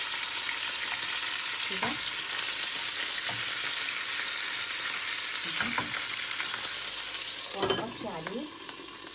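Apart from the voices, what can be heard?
rice tahen with quail sizzling as it is flipped in pan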